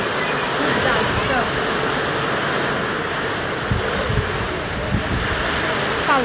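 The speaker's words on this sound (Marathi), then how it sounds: "पावसाबरोबर खूप जोरात वाहतोय वारा" Strong wind gusts with rain roar in a constant, dense rush close to the microphone in a village, with buffeting low rumbles from wind hitting the mic and faint voices underneath.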